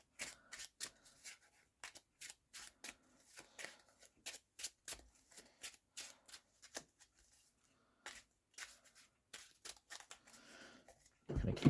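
Playing cards shuffled and handled during a Marvel Champions game with Gambit against Klaw: a long series of quiet, crisp riffling bursts and soft snaps in an uneven rhythm, close up, ending with a louder rustle.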